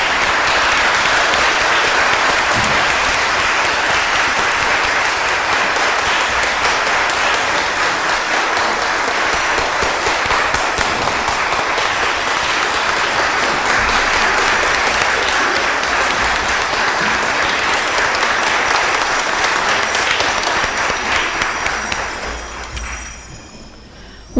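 A crowd of attendees at an MLK Day children's march for peace gives long, loud, sustained applause outdoors, steady for over twenty seconds before fading out at the end.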